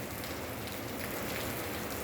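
Rain falls at the Tegal Waton horse racing track in Salatiga, Central Java, a steady, dense patter of drops on surfaces, soft and continuous with no voices.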